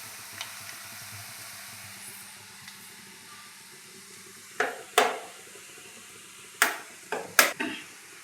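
Onion frying in a pan with a steady low hiss and sizzle, broken by several sharp crackling bursts and spits toward the end, recorded close with no talking.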